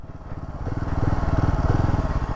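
A 2024 Royal Enfield Himalayan motorcycle engine with the throttle opened, a close, loud, pulsing single-cylinder thrum that rises in strength and holds steady with rapid rhythmic beats.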